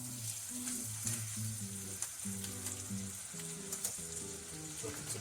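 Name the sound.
steak sizzling in pan while basted with butter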